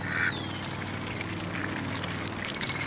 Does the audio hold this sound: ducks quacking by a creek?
yes